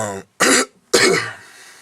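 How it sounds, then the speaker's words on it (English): Two harsh, close coughs in quick succession, preceded by a short vocal sound, loud and raspy. "I've got a bad cough"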